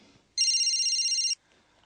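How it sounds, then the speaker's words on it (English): A telephone ringing indoors, a single electronic ring burst of about one second, clear and moderately loud against near silence. "Alice, it's John on the phone."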